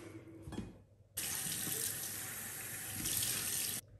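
Bathroom sink tap running while cleanser is rinsed off a face, a steady splashing water stream lasting a few seconds after a soft clunk, then cutting off abruptly.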